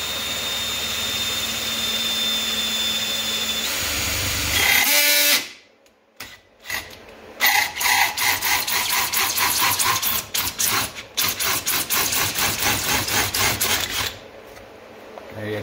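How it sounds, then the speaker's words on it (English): A loud power drill whirs and grinds into PVC in repeated bursts, pausing briefly between pulses, with a steady rasping buzz throughout. "So we're going to just put this on here and just slowly drill it in."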